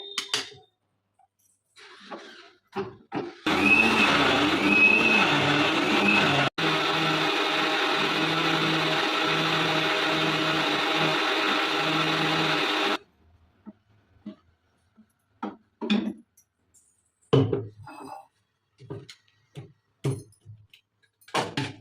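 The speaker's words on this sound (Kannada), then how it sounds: "ಈಗ ನೀರು ಹಾಕೊಂಡು ರುಬ್ಕೊಂತೀನಿ" A mixer grinder whirs for about ten seconds, grinding bottle gourd dosa batter with water, a loud steady motor roar that starts and stops abruptly, with clicks and handling noises before and after.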